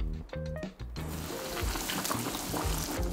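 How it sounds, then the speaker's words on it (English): A thin breaded wagyu cutlet dropped into hot oil, starting with a few tonal clinks before a loud, dense crackling sizzle takes over and holds steady, close up with no talk. "I just love that initial frying sound."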